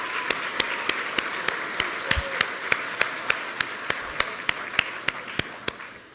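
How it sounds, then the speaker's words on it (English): At a technology center awards ceremony, the audience applauds for instructors in a steady, fairly distant wash of clapping, with a regular sharp rhythmic clap standing out near the microphone throughout. "If you could give our instructors a big round of applause."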